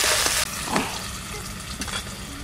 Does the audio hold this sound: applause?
no